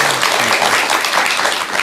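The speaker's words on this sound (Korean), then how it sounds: "우리 성승길 회장님께 큰 칭찬의 박수 한번 부탁드리겠습니다." Loud, close applause from an audience for chairman Seong Seung-gil, a brief dense burst of many hands clapping steadily.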